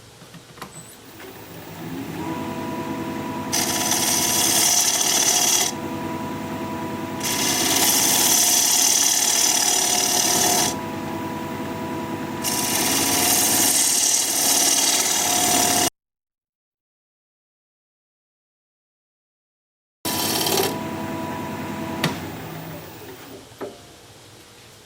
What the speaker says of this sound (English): And for that I'm going to use a 1/2 inch bowl gouge,